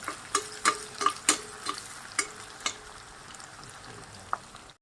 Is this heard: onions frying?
yes